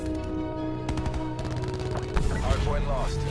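Gunfire on the Nuketown map in Call of Duty comes as a quick burst of automatic shots followed by busier, louder in-game action, with a voice underneath.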